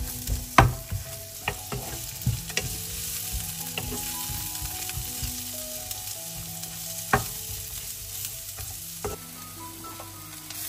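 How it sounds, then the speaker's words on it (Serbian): Leek and garlic frying in olive oil in a pan, a steady close sizzle running throughout, broken by occasional scrapes and sharp knocks of a stirring utensil. "dodajem i beli luk i pržit ću dok praziluk ne omekša."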